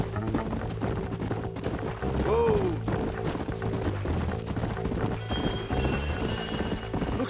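Horse hooves clip-clop steadily in Red Dead Redemption as riders travel together, with a short whinny partway through and game music and ambience running underneath.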